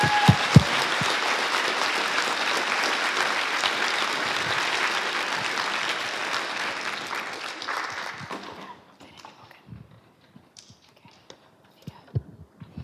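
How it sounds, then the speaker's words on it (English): Audience applause at a university three minute thesis competition, a dense sustained round of clapping for about eight seconds that then fades out to scattered claps and quiet. "huge round of applause."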